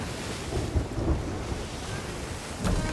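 Thunder and stormy rain in a video game about destroying a fleet, a low continuous rumble with rolling swells and a sharper crack near the end, no voices.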